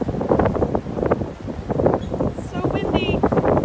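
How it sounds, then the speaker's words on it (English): Gusty wind buffets the microphone with low rumbling bursts while a person talks over it, outdoors at a lemur sanctuary. "It's so windy."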